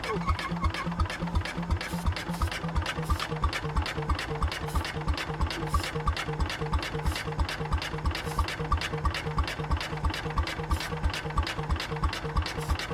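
The engine of a 1968 Jacobsen Super Chief tractor runs on its own with a rapid, even pulsing beat that stays close and steady, with no talk over it.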